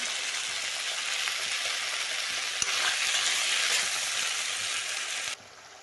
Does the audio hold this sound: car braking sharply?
no